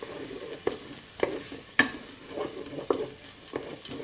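Dried shrimps and garlic stir-fried in a pot for a one-pot savoury rice, with a regular series of sharp spatula knocks and scrapes every half second or so over a quiet sizzle.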